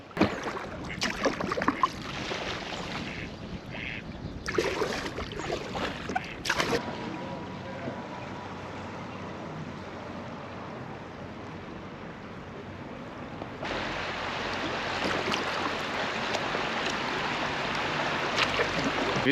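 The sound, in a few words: kayak paddling on water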